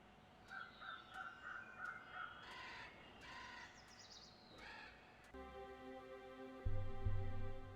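Crow, the bird from The Longest Journey, gives a run of short cawing calls in a quiet scene, followed by a sustained tonal musical swell.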